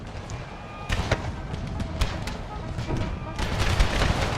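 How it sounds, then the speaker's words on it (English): Musket volleys crack in scattered bursts across a battlefield in Empire: Total War's American Civil War setting, distant and moderately loud, with a heavier cluster of shots near the end. "he's opening fire directly on my men who are still trying to reform"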